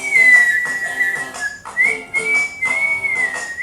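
A person whistles a short wavering tune nearby, the notes sliding and pulsing in uneven phrases across nearly four seconds, with no talking.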